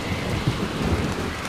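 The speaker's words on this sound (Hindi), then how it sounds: "कुछ ही पल में बिजली कड़की और उसके साथ ही झमाझम बारिश शुरू हो गई" Heavy storm rain pours down in a dense, constant hiss while low thunder rumbles underneath, loud and close throughout the short stretch.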